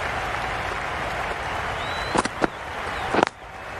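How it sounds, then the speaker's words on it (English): Spectators at a cricket match applaud in a moderate, continuous hiss of clapping, punctuated by a few sharper nearby claps and knocks toward the end. "The crowd are loving every minute of this game."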